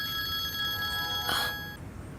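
A telephone rings indoors, a steady electronic bell tone that stops abruptly after a short burst, with no talk over it.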